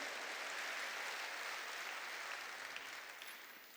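Congregation clapping during a church worship service, a steady dense wash of applause filling the room, holding fairly even before slowly tapering off toward the end.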